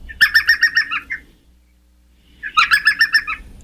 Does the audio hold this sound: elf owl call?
yes